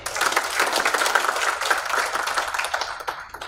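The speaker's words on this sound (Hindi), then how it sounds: "सभी के लिए आप अपने लिए भी जोरदार एक बार तालियां बजा दीजिए।" An audience at a hostel gathering claps hard together in a dense, fast patter that holds steady before easing slightly at the end, with no voices over it.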